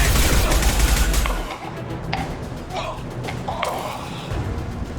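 Blue Suns mercenaries and Vorcha trade a dense volley of gunfire in Mass Effect 2, with rapid bursts up front easing into scattered single shots and thuds. The battle stays fairly close and carries on for about five seconds.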